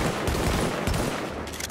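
Socom M1A rifle from The Division fired as fast as possible, a quick run of sharp, loud, close shots blending into a steady barrage, with no talking.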